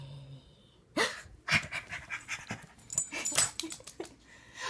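A small dog pants in quick, uneven bursts close by, soft breathy puffs with faint whimpery tones, no voices over it.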